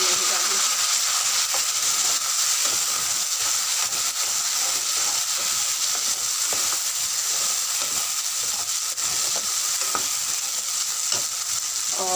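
Ground onion paste sizzles steadily in hot oil in a pan while cooking an aloo soybean curry, a loud, continuous frying hiss with faint stirring scrapes throughout.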